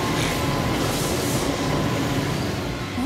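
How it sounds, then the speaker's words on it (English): A train rolls past at close range, a dense, loud, continuous rumble and rattle of railcars on track with steady hiss throughout, no voices. "Let's see you stop a train."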